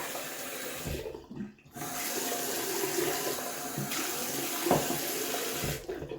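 Water runs steadily from a tap, a continuous splashing rush with a brief break near the start and near the end.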